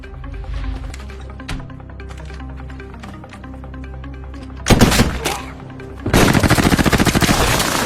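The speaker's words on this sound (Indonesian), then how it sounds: "Terlihat di sini, David mendapatkan tembakan di kaki." A burst of rapid gunfire in a film scene erupts after a tense musical passage, first a short volley and then sustained automatic shots, loud and close.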